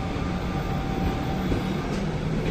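An Alstom passenger train runs steadily near Valparaíso, its loud, continuous low rumble and rail noise filling the space evenly throughout, heard from on board with no talking.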